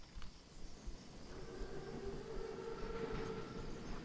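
Armored Panzerzug train arriving in the video game Call of Duty WWII, a steady low rumble of rolling wagons with a faint sustained tonal whine building in, distant and quiet, without speech.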